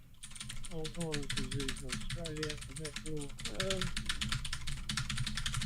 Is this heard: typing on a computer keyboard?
yes